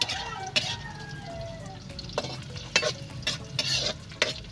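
Chicken feet dropped into a pan with browned ginger, frying with a steady close sizzle while a utensil stirs and scrapes in repeated clinking strokes, no talking.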